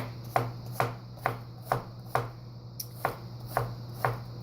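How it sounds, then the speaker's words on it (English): A knife chops vegetables for chili on a cutting board in steady, evenly spaced strikes, about nine crisp close knocks over a low constant hum, with no talking. "I'll just run through another chop when I'm done here"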